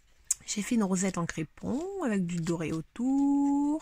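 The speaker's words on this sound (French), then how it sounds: "si vous entendez miauler, c'est mon chat." A pet cat gives a short, drawn-out meow mid-clip, heard close under and between a person speaking French.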